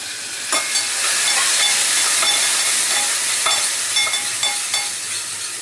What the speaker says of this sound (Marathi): कोथिंबीर टाकून देते तेलामध्ये